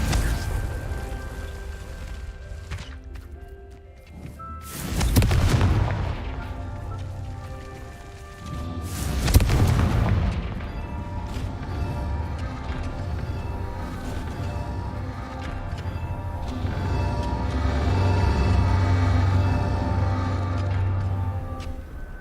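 Confringo fire-blast spell cast in the video game Hogwarts Legacy, two loud booming explosive bursts a few seconds apart with whooshing tails, over a steady bed of game ambience and low rumble.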